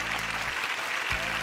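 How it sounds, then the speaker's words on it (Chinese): A television studio audience claps in welcome for a guest, a dense, even burst of applause that continues through the whole brief moment. "掌声欢迎姜老"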